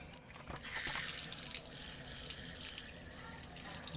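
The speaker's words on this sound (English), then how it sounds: "Time to rinse it." Water runs and splashes steadily over bleached motion-picture film being rinsed in a sink, a continuous close trickle with occasional drips throughout.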